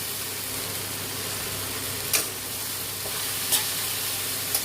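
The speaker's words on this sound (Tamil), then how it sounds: "இதெல்லாம் நல்லா வதங்கட்டும் பாருங்கள்." Vegetables for millet noodles sauté in a pan with a constant hissing sizzle, broken by a few sharp scrapes of a spatula, close and fairly quiet.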